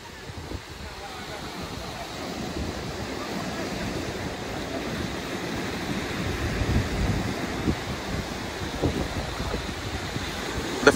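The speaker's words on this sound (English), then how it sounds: "they have not seen waves and wind condition like this at the beach" Strong surf and gusting wind roar steadily across a Jamaican beach, a dense continuous wash of breaking waves and wind buffeting, loud and sustained with no voices.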